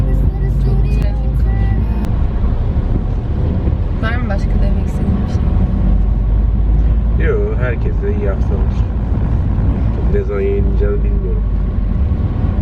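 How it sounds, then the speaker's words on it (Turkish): Monday road traffic on a busy street near a university campus in Istanbul, a steady loud roar of passing cars and engines with wind buffeting the microphone, voices talking over it. "Pazartesi trafiğiyle karşı karşıyayız."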